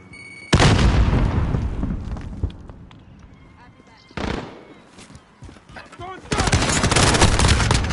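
Grenade blast in Call of Duty Modern Warfare online multiplayer, booming bursts amid heavy gunfire and sharp mechanical game effects, several loud hits spread over the clip with a voice calling out among them.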